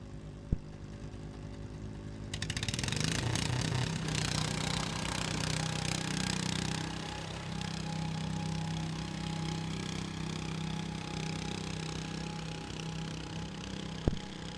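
A 14-horsepower garden tractor weighing about 900 pounds roars at a county fair tractor pull, its loud, steady engine drone rising sharply after two seconds and holding, with a brief click near the end and no talk.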